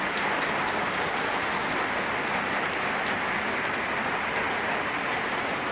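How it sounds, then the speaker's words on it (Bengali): Sudden rain falls on a van during a journey toward Nagerhat bridge, a steady dense hiss of drops on the surface holding at constant loudness throughout, with no voices. "চলতি পথে হঠাৎ বৃষ্টি।"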